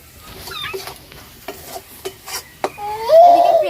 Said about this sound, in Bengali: আমি এখানে কিন্তু আদা পেঁয়াজ রসুনটা কষে নিচ্ছি তেলে